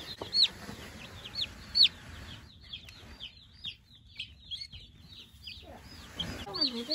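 Over a hundred broiler chicks on a small pasture-raised farm, cheeping constantly in a brooder, a dense chorus of high, near peeps with a few louder calls standing out.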